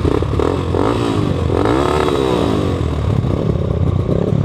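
A Rusi KRY 200 motorcycle with broken spokes sputters and revs unevenly, a loud, close, rough engine drone with clattering and scraping mixed in.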